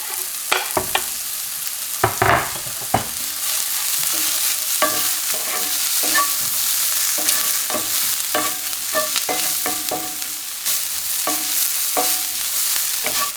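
Chopped garlic frying and being stirred into caramelized onion in a pan, a steady sizzle broken by repeated sharp scraping strokes of the spoon, close and fairly loud with no talking.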